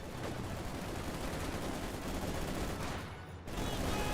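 PPSh submachine guns fire in the video game Company of Heroes 2, a dense continuous rattle of gunfire with a brief dip near the end before the shooting resumes; no talk.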